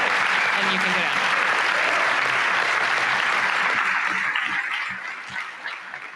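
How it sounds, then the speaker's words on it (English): Applause from a convention audience at a plenary session, a loud, steady wash of clapping from many hands that carries on for several seconds and then begins to thin out and fade near the end. "I would like us to just give them a little bit of support in the form of applause."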